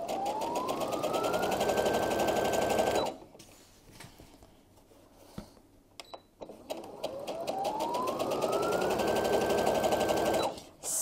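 Sewing machine stitching a French seam on a cotton pillowcase, its motor whirring loud and steady in two long runs with a rising whine, separated by a quieter pause of handling and small clicks.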